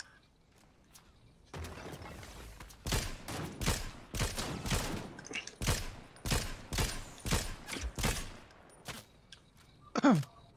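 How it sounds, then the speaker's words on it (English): Rapid bursts of gunfire crackle through a Fortnite battle royale match, a dozen or so sharp shots in uneven volleys, fairly distant, with no talk over them. "think they're fighting somebody else because I hear gunshots"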